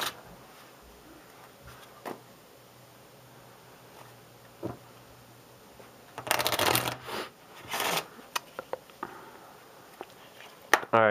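Cards riffle-shuffled close by in a couple of quick bursts, with small taps and handling noises before and after in a quiet room.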